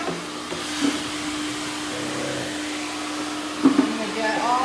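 Central vacuum system running steadily while cleaning dirt out of a kitchen drawer, a constant whining drone with a couple of brief knocks as the hose moves, close and alone.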